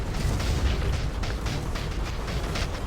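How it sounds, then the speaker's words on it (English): Cannon fire and explosions roar through a video game battle over a cannon in a Dark Forest tournament match, a dense, continuous barrage of booms and bursts with no talk. "Cannonball fire is going at the point."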